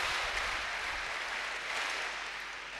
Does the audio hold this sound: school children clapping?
yes